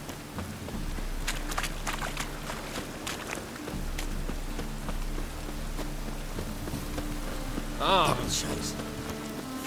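Steady rain falls throughout a scene in The Witcher 3 video game, a constant hiss with scattered patter, while a voice briefly speaks over it.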